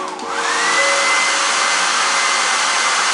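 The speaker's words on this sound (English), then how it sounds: "I'm gonna hold the cool button in so the air's not hot." A hair dryer blows on its cool setting, turned up high enough to float a ball in its air stream: a loud, steady whooshing whir that rises slightly at the start and then holds constant, alone and close.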